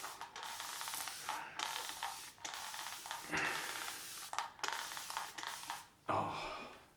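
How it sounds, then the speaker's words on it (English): Water mist sprayed from a spray bottle onto a shaved head before a head shave, coming as a run of short hissing bursts, fairly close and steady, with brief gaps between squirts and no talk. "when you spray anything out of that bottle, it's cold"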